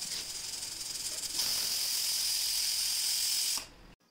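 Steam hisses steadily from a pressure cooker whistle while jackfruit seed curry cooks, a loud continuous broadband rush that swells midway and cuts off sharply near the end.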